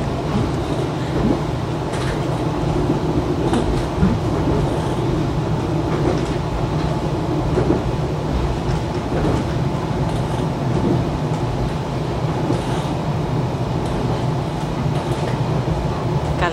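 A panoramic passenger train with full-glass carriages rumbles steadily along the rails, a continuous loud low roar with faint rhythmic clatter throughout.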